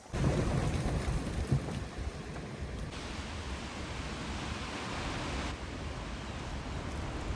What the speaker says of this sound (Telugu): గాలి సౌండ్ అనేది వింటుండొచ్చు మీరు